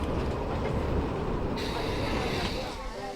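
A narrow gauge train of the Środa County Narrow Gauge Railway in Poland runs along the line, giving a steady, close rumble of wheels and engine that holds at an even level before easing slightly near the end.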